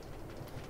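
Trains pulled by multiple locomotives run along a railway in modded Minecraft, giving a brief, steady low rumble with faint rhythmic clatter.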